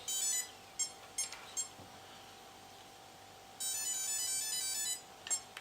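An RC crawler's electronic speed controller beeps during throttle calibration: a series of short electronic beeps in quick bursts, then a longer sustained beeping tone, clear and close against a quiet background hum.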